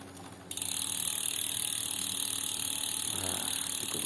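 Freewheel ratchet of a Pacific Primum 5.3 bicycle's 24-hole rear hub spinning freely, a dense, steady, moderately loud buzz of rapid pawl clicks that starts abruptly half a second in and runs on without talk.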